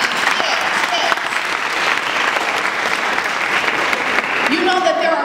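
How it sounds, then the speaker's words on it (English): Steady, dense applause from an audience at a speaking event in St. Pete, continuous and fairly loud throughout, with some voices mixed in underneath. "you can clap, yeah, clap for that one time"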